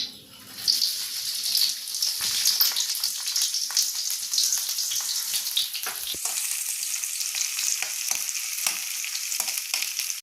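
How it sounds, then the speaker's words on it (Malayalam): Green chillies fry in sesame oil in a pan for a pickle, giving a continuous bright sizzle and crackle at close range, with occasional stirring and no talk. "ഇതിലേക്ക് നല്ലെണ്ണ ഒഴിച്ചു കൊടുക്കാം ഞാനൊരു മൂന്ന് സ്പൂൺ നല്ലെണ്ണ ഒഴിച്ചു കൊടുത്തിട്ടുണ്ട് അതിലേക്ക് ആദ്യം നമ്മൾ ഈ പച്ചമുളകൊന്ന് ചെറുതായിട്ടൊന്ന് മൂപ്പിച്ചെടുക്കണം"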